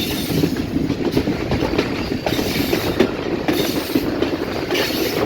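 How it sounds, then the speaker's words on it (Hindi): Rehman Baba Express running between Taxila and Rawalpindi near Islamabad, a loud rolling rumble with rhythmic clickety-clack of wheels over rail joints and occasional faint squeal, no talking. "और अब हमारी ट्रेन गोलरा रेलवे स्टेशन पर अप्रोच करेगी और यहाँ से थ्रू पास होगी"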